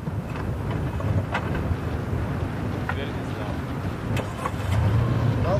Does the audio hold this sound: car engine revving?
yes